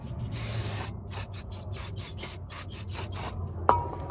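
Brake cleaner is sprayed onto a Mercedes-Benz CLA brake rotor in a string of close, hissing bursts with short gaps between them, and a single light knock comes near the end.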